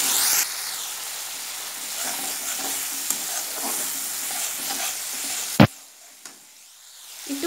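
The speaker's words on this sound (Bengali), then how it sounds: "এই মুহূর্তে আমি গুলিয়ে রাখা মশলাটা দিয়ে দিচ্ছি।" A spice paste hits a pan of frying onion and tomato for a shrimp curry with potatoes and eggplant, giving a loud steady sizzle and hiss with stirring scrapes, then a sharp clatter before the sizzle drops away.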